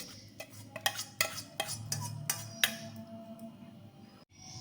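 A series of light clinks and taps as green chillies are dropped into a glass bowl, uneven in rhythm, close and fairly quiet.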